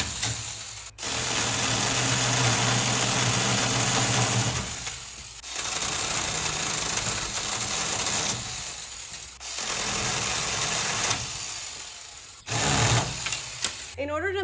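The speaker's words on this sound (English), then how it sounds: "This Tommy Vic mini chainsaw is the perfect Father's Day gift." A small electric Tommy Vic mini chainsaw, a garden trimming tool, buzzing loudly and steadily in three long bursts with short pauses between them.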